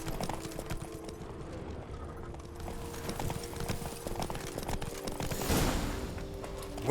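Roach the horse trots along in The Witcher 3, steady clip-clopping hoofbeats close by under ambient game sound, with a brief whinny or stir near the end.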